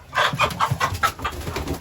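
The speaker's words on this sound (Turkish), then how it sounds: "kuluçka tavuğumuz bakın" A hen clucks repeatedly in short, throaty bursts, close by, with a steady low broody rhythm and no talking.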